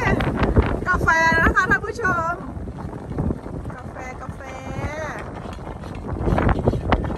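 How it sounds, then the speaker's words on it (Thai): Strong gusts buffet the microphone outdoors on a fishing trip outside a town in Africa, a rough low rumble that runs steadily under someone talking. "ท่านผู้ชมมันลมแรงแบบนี้"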